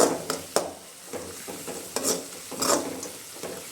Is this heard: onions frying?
yes